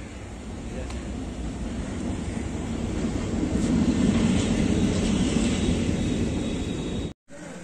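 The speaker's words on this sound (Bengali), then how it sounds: "এই মুহূর্তে আমাদের ট্রেন চলে এসেছে" A passenger train pulls into a station on the Howrah to New Jalpaiguri route, a loud steady rumble that swells toward the middle and holds under station crowd noise, with a brief dropout near the end.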